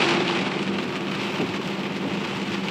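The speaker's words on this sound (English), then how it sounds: "Just as I started feeling it started raining." Rain falling outdoors in Newcastle, Australia, a dense, steady hiss of drops pattering on surfaces, fairly close and continuous, with no voices.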